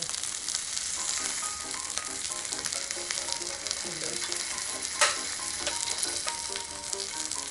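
A thick lamb chop frying in a pan, a loud continuous sizzle with crackling spits and one sharp clink midway, close and without talk.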